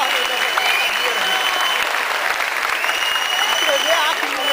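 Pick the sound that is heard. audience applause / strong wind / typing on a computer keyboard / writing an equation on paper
audience applause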